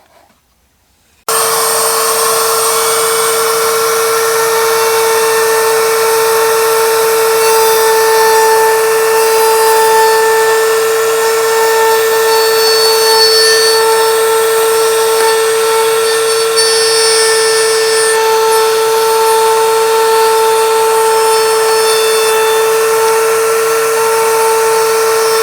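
Router bit cutting wood on a router table, a loud steady high-pitched motor whine that starts abruptly and holds constant for the whole stretch, close with no voices.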